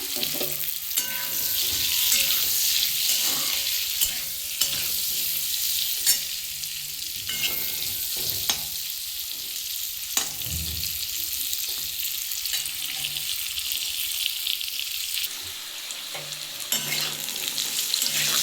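A fish head fries with turmeric in a pan: a steady, close sizzle runs throughout, broken by repeated scraping and stirring knocks.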